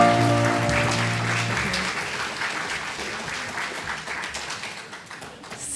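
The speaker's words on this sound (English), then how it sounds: "Let's give a round of applause for Jake." Congregation applauding at a Pride Sunday church service, a dense wash of clapping that fades gradually as it goes on, with a sustained organ or keyboard chord underneath at the start that drops out after about a second and a half.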